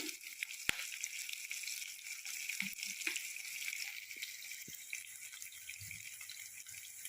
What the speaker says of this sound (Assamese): পিঁয়াজখিনি ফ্ৰাই কৰি ল'ব লাগিব অকণমান হালধি